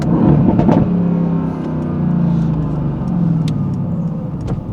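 A car engine revs loud and close with a deep rumble, rising and falling, with sharp crackles and pops from the exhaust between the revs.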